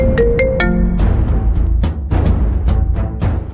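A phone's ringtone rings for an incoming call in a Kannada TV serial scene, starting with a few loud, close melodic beeps and moving into a pulsing, beat-driven tune.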